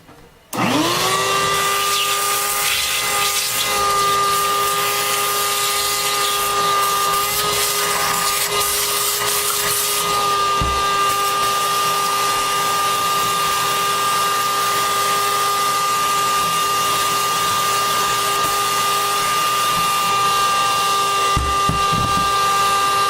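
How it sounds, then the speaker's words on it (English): A vacuum cleaner switches on and runs with a steady, loud, high whine while it cleans out the voice coil gap of a JBL 2226H 15-inch professional woofer, with a few small bumps along the way and no talk. "Gonna go ahead and vacuum it out."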